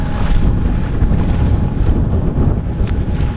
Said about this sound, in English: Engine sounds great right now.